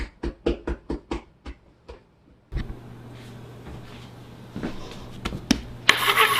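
A biscuit cutter presses and scrapes through buttermilk biscuit dough, starting with a quick run of close rhythmic taps, then rough rubbing and sliding sounds with a few sharper knocks.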